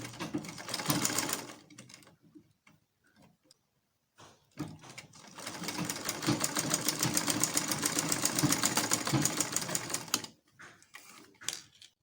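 A sewing machine stitches a basic bodice pattern with a close, rattling whir. A short run is followed by a few quiet handling clicks, then a long steady stretch of stitching, and the sound ends in scattered taps and clicks.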